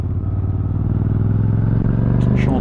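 A 2025 Suzuki SV 650 V-twin motorcycle engine chugs at low revs in third gear at very low speed, a loud close throbbing pulse that climbs slowly with a few brief clicks near the end.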